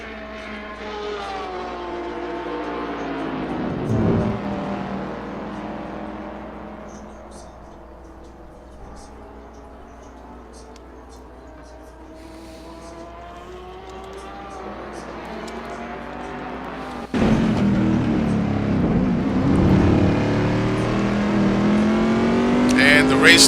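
Race cars in Assetto Corsa lap Silverstone, their engines droning and whining as they shift pitch, with a louder, closer car sweeping in during the final seconds.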